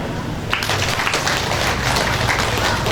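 Applause rises for the committee at the inauguration of an HKBP church in Sei Baru, Pantai Cermin, a dense steady wash of many hands clapping throughout, with voices mixed in.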